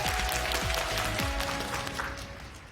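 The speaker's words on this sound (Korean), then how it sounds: "박수 부탁드리겠습니다." A quiz-show audience applauds in a dense, continuous wash of clapping with scattered sharper claps, fading slightly toward the end.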